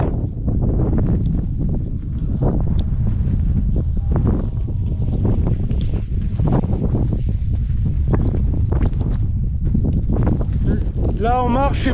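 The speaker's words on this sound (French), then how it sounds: "Là on marche, c'est vraiment la tempête, il y a énormément de vent." Strong storm wind in the Sahara desert near Merzouga roars and buffets the microphone in heavy, continuous gusts as people walk through it, with a voice briefly audible under the blasting air.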